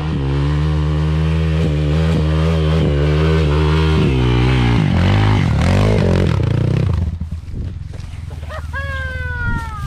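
Motorcycle climbing a steep hill in first gear on the Tanjakan 11 climb at Desa Nusa, Lhoknga, Aceh Besar, its engine droning loud and close with rising and falling revs before cutting off abruptly, leaving clatter and a brief shout.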